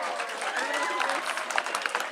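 An open mic crowd at a music club gives a round of applause, dense continuous clapping at moderate volume with scattered sharper claps and some voices in the room.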